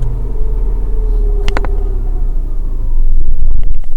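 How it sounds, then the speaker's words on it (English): A car engine with 58,955 miles on it cranks and fires, a steady low rumble with a brief tonal whine midway, then the idle grows a little louder and rougher toward the end. "We'll try starting the engine."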